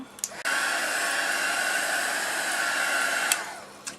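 Hair dryer drying paint on a handmade Valentine's card, switched on with a click and blowing in a loud, steady whoosh for about three seconds before cutting off, followed by a couple of small clicks.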